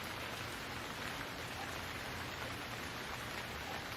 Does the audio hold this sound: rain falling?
yes